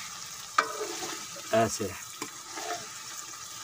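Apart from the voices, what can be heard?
stirring frying masala fish curry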